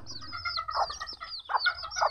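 Young two-month-old black Kate bantam hens on a farm, giving several soft clucks and short calls at close range, with a low steady hum underneath and no talking.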